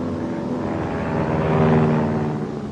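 A World War II aircraft engine drones steadily in a simulated attack run, a broad rumbling hum that swells louder toward the middle and eases off slightly at the end, with no talk.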